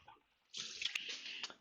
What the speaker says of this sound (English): rinse it out and put clean water in it